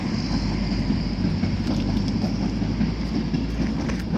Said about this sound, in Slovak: čo sa mocuje, tak to je vlak.